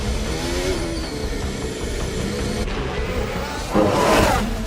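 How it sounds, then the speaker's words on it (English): A McLaren Formula 1 race car driven by Piastri roars past, its high-pitched engine note sustained and loud, swelling toward the end as it nears. "Piastri coming through in the McLaren."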